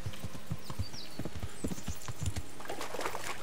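Horse hooves clip-clop at a steady riding pace in the medieval game Kingdom Come: Deliverance, close and continuous, with a faint whinny partway through and no talking.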